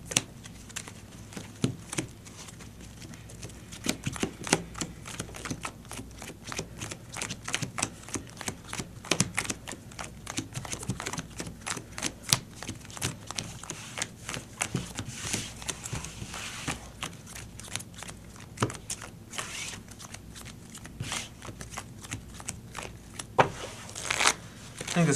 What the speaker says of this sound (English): We'll go and shuffle up.